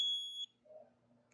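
An electrical tester touched to a live cable gives a sharp, high electronic beep that holds for about half a second and then cuts off, leaving a quiet room with faint background noise.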